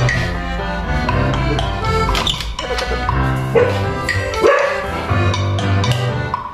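A dog barks repeatedly in a home with several floors, loud and close, the sharp yaps and barks mixed with busy background music and some voices.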